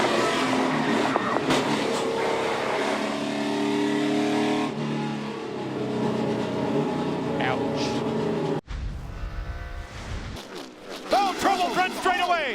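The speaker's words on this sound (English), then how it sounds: "3 wide and 2 cars pile hard into the wall." NASCAR stock cars race three wide at the Coca-Cola 600 and two pile hard into the wall, with a steady engine roar under race commentary, then a sudden break into crashing and skidding noise and a rougher, broken roar.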